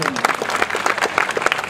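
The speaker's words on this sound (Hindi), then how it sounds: "छोटी छोटी ताली बजाओ भाई जोरदार।" Audience at a Hindi kavi sammelan poetry gathering in Gwalior claps steadily, a dense patter of many hands filling the whole short stretch with a few louder bursts.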